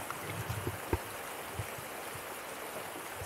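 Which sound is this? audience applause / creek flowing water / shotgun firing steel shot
creek flowing water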